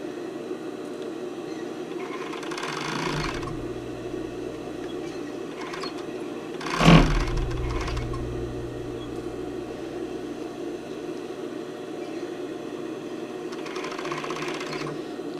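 A sewing machine runs steadily, stitching the side seam of a tankini attached to a sports bra, its close mechanical whir continuing throughout with brief pauses and one louder knock near the middle.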